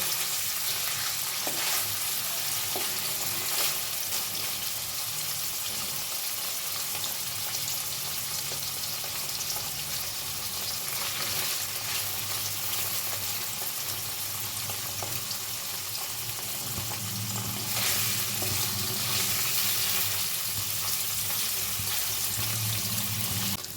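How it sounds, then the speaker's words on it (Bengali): Paneer cubes fry in a pan with sugar and salt, a continuous close sizzle with occasional scraping and stirring clatter over about twenty seconds and no talk. "পনিরগুলো ভাজা হয়ে গেছে"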